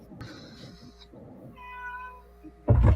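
A house cat meows several times up close, short rising and falling cries with a higher drawn-out call in the middle, ending on a sudden loud thump.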